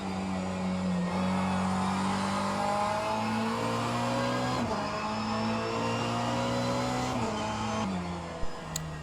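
A Ferrari 488 GT3 race car engine in rFactor 2 at Brands Hatch revs and changes gear, a loud, continuous engine note rising in pitch and dropping at each shift.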